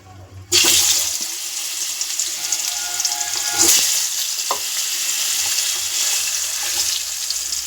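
Potato pieces hit hot oil in a pan after the fish is lifted out, bursting into a loud, close, continuous sizzle that holds steady with a few brief spatters.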